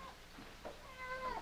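A small cat meows a few times, soft and fairly close, with a faint background hiss and no talking.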